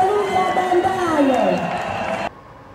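A very agitated crowd at an outdoor political rally shouts and cheers in a dense, loud roar of many voices that swells and then cuts off abruptly.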